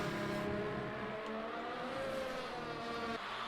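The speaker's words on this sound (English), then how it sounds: "the cars are going around fast" Several race cars in a racing video game's Canadian Grand Prix roar steadily at high revs, their whining engine tones rising and overlapping, up close and continuous with no talk.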